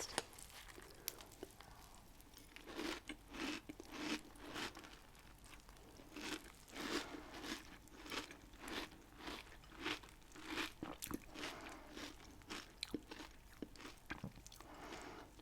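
Someone eats breakfast cereal with close, crisp crunches and chewing in a steady rhythm of bites through the whole stretch, with no talk over it.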